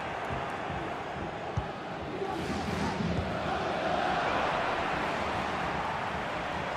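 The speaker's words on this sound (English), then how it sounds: "The crowd encouraging him to take it on." Stadium crowd in a FIFA 24 Champions League match between Atletico Madrid and PSG, a steady dense roar of cheering and chanting that swells slightly midway, continuous and loud throughout.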